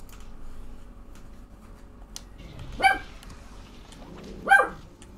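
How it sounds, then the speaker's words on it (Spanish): A dog barks twice in the distance, two short sharp barks spaced about two seconds apart over faint low background noise, with no one talking. "¿Por qué ladra ese perro?"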